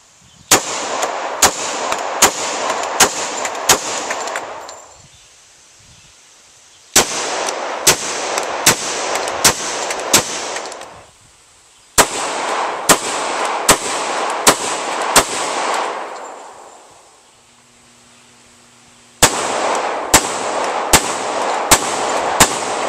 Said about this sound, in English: What we're going to shoot is 5 rounds out of the SIG P220 tactical, full loads with no suppressor.